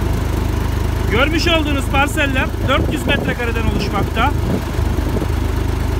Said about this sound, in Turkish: parsellerimizi bize traktörle gezdiriyor şu an